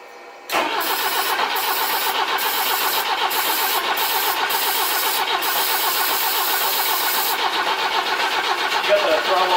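The starter of a classic E21 BMW cranks over and over on starter fluid without catching. The steady, loud rhythmic churn runs for about nine seconds after an abrupt start, with a few short breaks.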